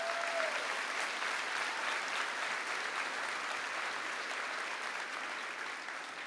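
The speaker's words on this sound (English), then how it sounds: "That deserves an applause, don't it?" A graduation audience in a high school ceremony applauds for students enlisted in the armed forces, with steady, dense clapping from a large crowd that holds loud throughout and fades slightly at the end.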